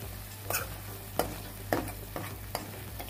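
Prawn fry with dry masala being stirred lightly in a pan of sizzling oil, a steady hiss beneath five sharp scraping strokes of the spoon spaced about half a second apart, close and fairly quiet.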